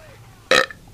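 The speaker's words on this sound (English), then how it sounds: "I shouldn't be burping on the mic." A single close, loud burp erupts straight into the microphone, short and abrupt against a quiet background.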